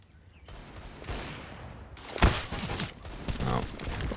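Competitive Counter-Strike match on the Inferno map in an esports league: pistol shots crack in quick bursts, with one loud sharp shot standing out amid scattered gunfire and muffled game noise.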